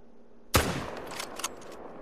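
A single sharp rifle shot at a fallow deer in a hunting video game cracks loudly and close, then trails into a short echoing tail with faint after-sounds.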